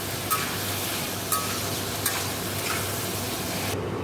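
Ridge gourd and potato sauté with salt and turmeric in a pan, giving a steady close sizzle with a few sharp stirring knocks, no voices.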